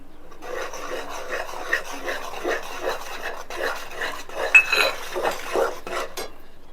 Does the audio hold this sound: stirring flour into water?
yes